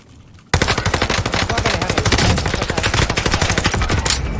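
Cooper Carbine machine gun in the shooter game Warzone Pacific, opening after a short quiet moment into a loud, close, rapid stream of shots with an even rhythm that keeps going to the end.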